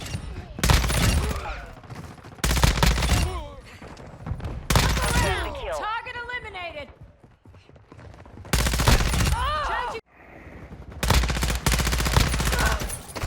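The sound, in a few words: ISO 45 gun firing in video game multiplayer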